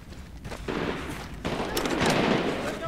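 Gunfire in the shooter game Medal of Honor: Warfighter, with clustered bursts of rapid shots and a dense, sustained stretch of firing in the second half, loud and close.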